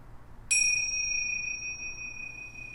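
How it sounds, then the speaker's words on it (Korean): A single bell strike opens a voice performance staged in a cave-like space. It rings out clear and bright, then hangs in a long, steady, slowly fading tone with no talking. "공연의 시작을 알리는 종이"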